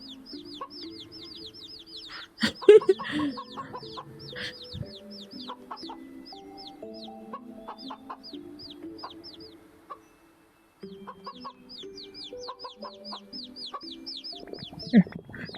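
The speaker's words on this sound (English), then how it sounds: "We're gonna keep the chickens going." Chickens in VRChat cluck in quick, repeated high-pitched bursts that run through most of the stretch, with a short pause near the middle. Scattered bumps and low tones from the game sit underneath.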